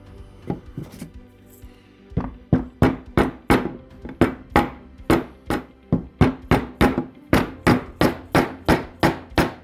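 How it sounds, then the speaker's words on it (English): Wooden dowel pins being tapped into glued holes while building a folding indoor dog gate: a steady, evenly spaced series of about twenty sharp, close knocks, alone without speech. "We're gonna tap in the dowels in all these."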